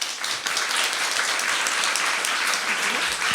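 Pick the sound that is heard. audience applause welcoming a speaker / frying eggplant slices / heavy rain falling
audience applause welcoming a speaker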